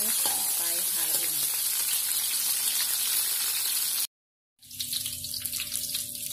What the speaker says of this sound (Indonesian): kita masukkan bawang merah, serai, dan daun kari. Ini kita tumis sampai harum.